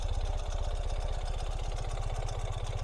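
A 2020 Ural Gear Up sidecar motorcycle idles nearby with a steady, fast low thumping pulse and mechanical clatter above it, running evenly throughout with no voices.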